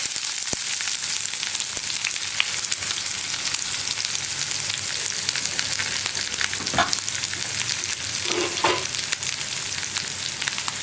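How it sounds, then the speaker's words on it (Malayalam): Sliced onion and curry leaves fry in hot oil for a Kerala plantain and egg stir-fry, making a dense, even hiss of sizzling with a few sharp spatula scrapes against the pan partway through. "നമുക്കിതിലേക്ക് കുറച്ച് കറിവേപ്പിലയും അതുപോലെ തന്നെ നമ്മൾ മുറിച്ച് വെച്ചിരിക്കുന്ന സവോളയും ചേർക്കാം"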